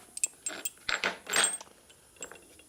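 Metal bolts clink and rattle as they are handled in a machine shop, a scattered series of bright, close metallic taps and jingles with short pauses between them.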